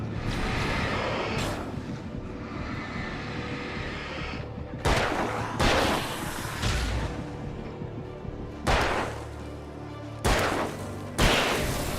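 Gunshots in the video game Alan Wake ring out as a series of sharp, loud cracks at irregular intervals, about five or six blasts over steady low background noise.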